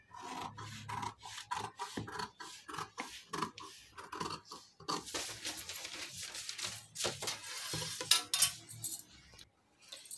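Scissors cut blouse fabric for a katori blouse: quiet, close, irregular snips and rasps at first, then a longer stretch of continuous crisp shearing and rustling cloth.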